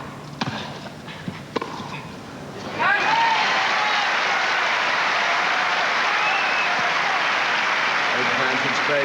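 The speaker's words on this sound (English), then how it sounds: "You heard the applause over in court 1 in the background." Crowd applause at Wimbledon in 1992 breaks out after a few seconds of quieter court sound with brief thuds, then holds as a steady, loud wash of clapping.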